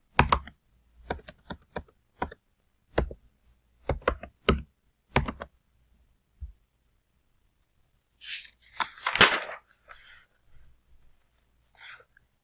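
Computer keyboard keys tapped in separate quick bursts while class, roll number and marks go into a table, crisp close clicks with pauses between groups; a brief breathy sound and a few faint clicks follow later.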